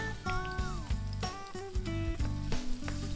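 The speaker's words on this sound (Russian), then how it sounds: "следом кладем жариться чеснок" Garlic sizzles and pops as it fries in a hot pan, with intermittent clatters and a sustained tonal hum in the background.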